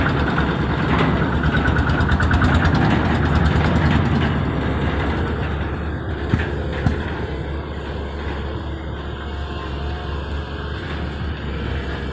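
A machine engine idles steadily at a work site, a loud continuous rumble with a slight drop in level midway and a couple of brief knocks, no talk.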